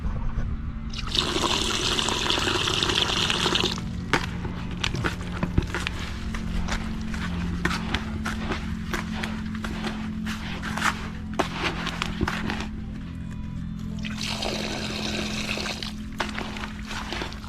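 Water trickles and pours into a cement mix being stirred by hand on a rainy day, in two bright bursts at the start and near the end over a steady low background hum, with scraping and handling sounds between.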